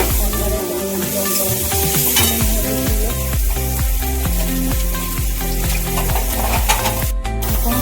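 Onion, garlic, ginger and chilli sauté in a pan with a steady, loud sizzle, broken by repeated scraping stirs of the utensil against the pan. The frying carries on without any voices.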